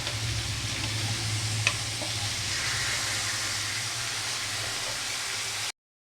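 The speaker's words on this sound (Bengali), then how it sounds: "মাটনগুলো দিয়ে দেবো খুব ভালো করে কষাবো" Mutton pieces with tomatoes sizzling and being stirred in a hot pan, a continuous close frying hiss with occasional scrapes and clinks, cutting off abruptly.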